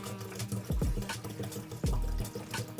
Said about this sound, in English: I'll just go ahead and pour in the water with it.